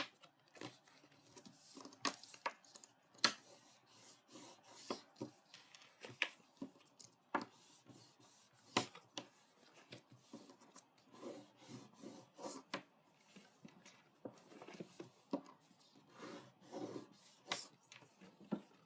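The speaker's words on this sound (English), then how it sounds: "we're going to want to make sure that we've got a nice crease, a nice burnish on here" Quiet, intermittent rubbing and scraping as a paper crease on a handmade card is burnished, in short irregular strokes with no talk.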